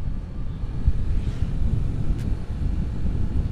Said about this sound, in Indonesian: tanpa ancang-ancang langsung dibawa buat nanjak ya coba tak gas agak kuat